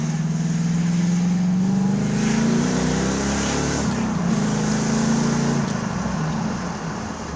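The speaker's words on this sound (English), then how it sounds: "how do you not enjoy the sound of a small block Chevy?" A 1992 Camaro RS with a small block Chevy V8 holds a loud, steady engine note that rises and falls slightly as it revs, close up and alone with no talking.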